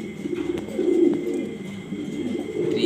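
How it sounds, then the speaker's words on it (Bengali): A pair of grizzle racing pigeons coo in low, rolling murmurs that run continuously and close by, with no talking. "দেখতে পারতেছেন একজোড়া রেসার কবুতর"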